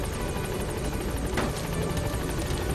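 Helicopter in the video game Metal Gear Solid 5 flying steadily, a loud continuous rotor thrum with rhythmic blade chop filling the whole stretch, no voices over it.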